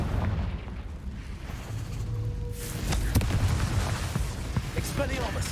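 A Confringo blasting spell goes off in Hogwarts Legacy inside a cave maze, a deep booming burst after a steady low rumble, followed by crackling debris and scattered pops.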